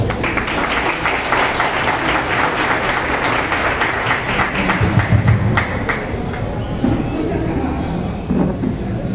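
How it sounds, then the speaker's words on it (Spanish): A crowd at an outdoor political campaign rally for Bernardo Arévalo of Movimiento Semilla in Retalhuleu, Guatemala, applauds steadily and loudly for about nine seconds, with dense continuous clapping and scattered thumps. "Recibámoslo con fuertes aplausos."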